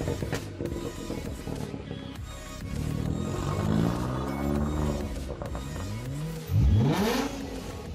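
A Ford Fiesta with a battery problem, running on a jump start, revs repeatedly: engine notes sweep up and fall back several times, ending in a sharp, loud rev near the close, heard fairly close with no talk.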